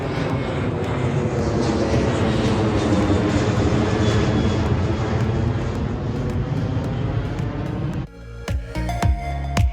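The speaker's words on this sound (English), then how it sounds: "Here comes another airplane" An airplane flies overhead with a steady, loud broadband engine roar that lasts about eight seconds. It then cuts off, and a few sharp nearby knocks follow.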